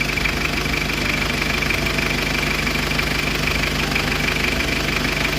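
A 2018 automatic car's engine idles steadily at close range in a used car sale, a continuous, even mechanical drone with a faint ticking texture running unbroken throughout, with no voices over it.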